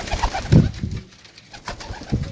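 Pigeons coo in soft, low bursts, a few throaty calls close by with brief pauses between them and no talking.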